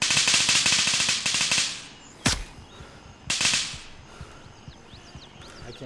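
Automatic weapon fire in the tactical shooter Gray Zone Warfare, a long rapid burst, a single sharp crack, then another short burst, with fainter distant shots trailing off.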